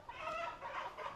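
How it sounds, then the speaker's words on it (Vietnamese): A flock of chickens raised on a Vietnamese farm for sale before the Lunar New Year, clucking continuously in a dense, overlapping chorus at moderate distance, with no talk. "Đây là đàn gà nuôi để bán kịp Tết Kỷ Hợi, nhưng đến giờ vẫn chưa thể bán của ông Vinh"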